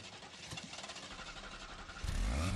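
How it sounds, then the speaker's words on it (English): A car engine in The Grand Tour Game video game turns over with a rapid fluttering cranking, then catches into a louder, rough idle rumble, alone and close. "Start the engine, please."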